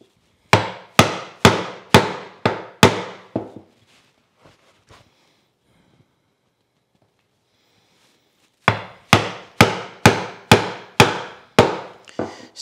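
Chisel chopping a hand-cut mortise in wood: two bursts of six or seven sharp, loud, evenly spaced mallet-driven strikes, separated by a quiet stretch with a few faint taps and light scraping.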